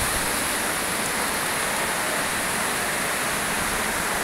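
Evening rain falling in Vizianagaram town, a steady, even, close wash of dense rainfall hissing without pause and with no voices.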